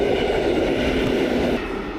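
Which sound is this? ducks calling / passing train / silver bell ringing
passing train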